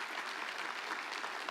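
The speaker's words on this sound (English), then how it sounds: "And can we give some of these guys an applause?" Church congregation applauding the crew during a Sunday service, a steady wash of many hands clapping at moderate level, continuous and even without breaks, with no voices rising above it.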